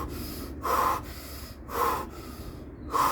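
A person breathing hard through the mouth in steady, loud cycles, three forceful breaths about a second apart with no speech.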